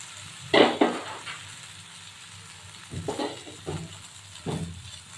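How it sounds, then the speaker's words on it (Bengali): Poppy seeds tipped into mustard seeds frying in a pan, with a few separate scrapes and clatters of a spoon stirring over a low, quiet sizzle. "সরষাটা একটু ভাজা ভাজা হয়ে এসছে। এবার দিয়ে দেবো পোস্ত।"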